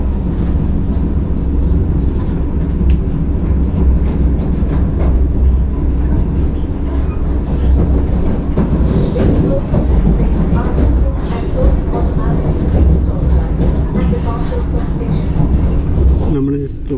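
Riding aboard the Vande Bharat Express, a loud continuous rumble and roar of wheels on rails fills the cabin, with rattling and faint clatter as the train approaches a station.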